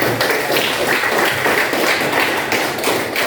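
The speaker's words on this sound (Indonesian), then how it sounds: "Beri tepuk tangan untuk Alia." A classroom full of students applauds for their classmate Alia during a lesson on computational thinking: dense, steady clapping that fills the whole stretch at close range, with no talking over it.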